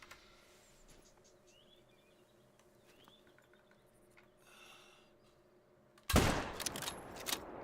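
A single loud rifle shot cracks out in theHunter: Call of the Wild at the Sundarpatan reserve, breaking a quiet stretch of buzzing insects and faint birdsong and leaving a ringing tail.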